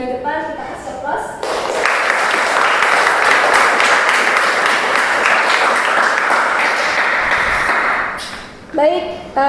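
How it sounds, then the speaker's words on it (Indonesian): Students applaud in a classroom, a steady burst of clapping from the group lasting about seven seconds, loud and close, bracketed by brief speech before and after. "Untuk semua mahasiswa yang sudah memberikan pendapat terkait gambar-gambar di depan, kita kasih aplaus."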